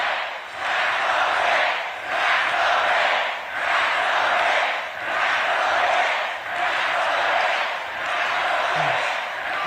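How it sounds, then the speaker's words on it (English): A fired-up crowd at a closing political election rally in New York City cheers and shouts in loud, rhythmic chant-like waves that swell and dip about every two seconds. "Oh, this crowd is fired up."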